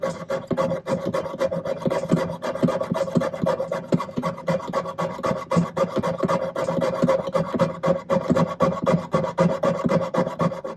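A close, steady rasping of a jeweler's saw blade cutting silver, with quick rhythmic back-and-forth strokes that continue without pause.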